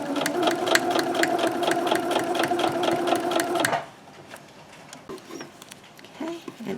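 A sewing machine stitches a fabric scrunchie with a fast, even run of needle clatter for several seconds, then stops, leaving quiet handling sounds of the fabric.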